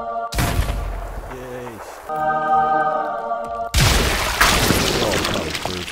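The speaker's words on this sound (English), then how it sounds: "Let's hit all these creepers with a heavy hand grenade." Heavy hand grenades detonate in a Minecraft weapon mod game, a series of loud booming blasts with crackling debris rolling over one another, while a voice speaks briefly over them.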